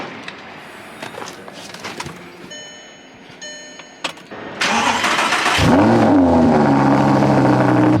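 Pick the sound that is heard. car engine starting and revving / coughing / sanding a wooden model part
car engine starting and revving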